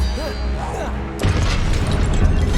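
Confringo fire blast spell explosion in Hogwarts Legacy, a sudden loud broadband burst that cuts in midway and keeps rumbling, preceded by a voice calling out and game sounds.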